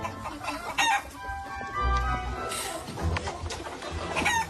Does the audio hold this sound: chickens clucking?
yes